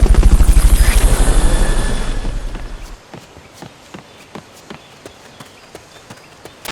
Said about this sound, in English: Fulton recovery helicopter is complete.